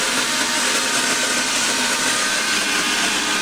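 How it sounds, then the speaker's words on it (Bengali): Mixer grinder blending cashew nuts and yogurt into a paste at full speed, a loud steady whirring roar with no pauses or voices. "দেখো মিক্সিতে এটা ভালোভাবে পেস্ট করে নিচ্ছি"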